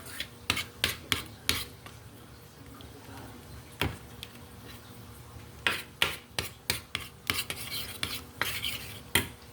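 Melted cacao from Davao being stirred in a still-hot pan with a metal utensil, giving a run of rhythmic scraping strokes and clinks against the pan, close and moderately loud.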